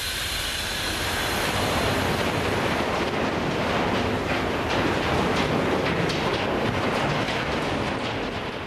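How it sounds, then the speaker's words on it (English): A very long, heavy Australian mine freight train, each carrying around 26,000 tonnes, roars past close by, a loud continuous rumble with rattling wagons and rhythmic clanks growing busier toward the end. "it's going to be the front of a huge train"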